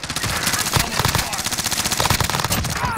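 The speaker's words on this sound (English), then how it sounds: "Rounds incoming" Rapid automatic gunfire in a shooter video game, a dense, loud, close stream of shots rattling without pause throughout.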